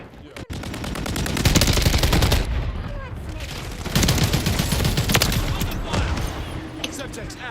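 Gunfire in Call of Duty multiplayer: rapid automatic bursts crackle in loud stretches with short pauses between them, mixed with game sounds and voice callouts.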